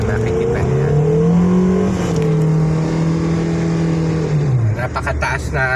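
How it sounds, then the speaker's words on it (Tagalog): A car engine revs high and steady with a slipping clutch, the engine note climbing and holding while the car barely gains speed, loud and close, then dropping off near the end. "Napakataas ng rev pero yung takbo ganun lang. So yun, sliding clutch na yan ibig sabihin."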